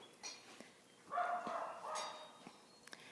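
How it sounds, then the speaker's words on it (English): A dog barks a few faint, distant yips and woofs in a quiet outdoor setting near a gaited john mule, short scattered calls with small clicks between them. "And we have a barking dog."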